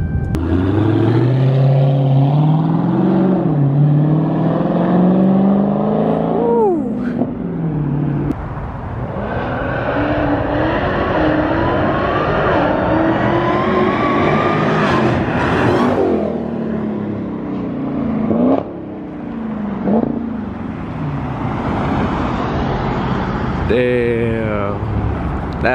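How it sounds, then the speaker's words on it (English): Dodge Hellcat Redeye supercharged car accelerating hard, heard from outside: a loud, sustained engine roar with rising revs and gear shifts through the run, with people's voices mixed in. "I'm gonna be doing a pull for you guys, an outside view of the Hellcat"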